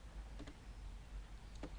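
Light taps on a computer keyboard, a few faint soft clicks spaced apart against a low background hum, typing a place name into a search box.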